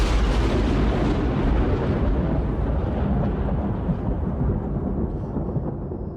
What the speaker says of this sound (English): After all the thunder and all the lightning